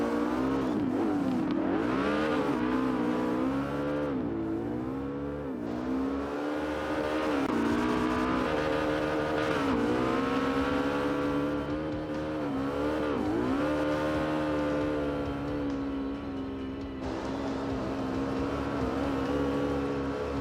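Race cars at Irwindale speedway, engines screaming at high revs with rising and falling pitch as they rush past, loud and continuous, with tire squeal mixed in.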